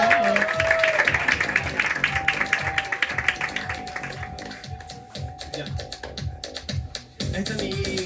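Audience applause at an improvisers' competition show as a performer is introduced, a dense clatter of clapping that thins out partway through, with a sustained tone and some talk over it.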